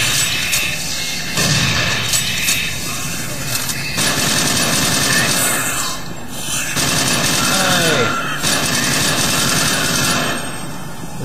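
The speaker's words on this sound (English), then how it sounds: "Shotgun, although it kills them in one hit, it's not the best weapon against the cherubs" Shotgun blasts and fighting noise against cherub monsters in the video game Doom 3, a dense, loud, continuous barrage of game combat sounds with repeated booming hits throughout.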